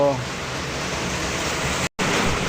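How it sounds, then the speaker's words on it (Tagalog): Heavy rain in the provinces makes a dense, steady hiss, loud and continuous, broken only by one brief dropout, while a person speaks over it. "sobrang ingay dahil sa sobrang lakas ng ulan po dito sa probinsya"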